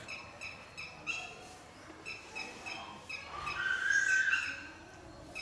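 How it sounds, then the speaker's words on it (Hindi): Small birds chirping outdoors near a classroom, repeated thin high calls in short bursts, with one louder, sustained squawking call partway through, moderately close against a low background hiss. "ये चिड़ियों की आवाज़ आ रही है"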